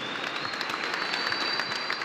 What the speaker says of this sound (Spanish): le regalamos un aplauso a estos guerreros, a estos grandes del boxeo argentino